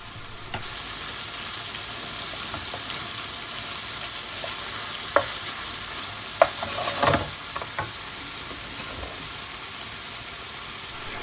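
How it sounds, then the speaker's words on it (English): Chicken rezala curry with base gravy being stirred in a pan, a steady soft sizzle broken by a few scraping spoon knocks and clatters in the middle, no voices. "So give it a bit of a stir, mix it all together, and then leave it for about a minute or so."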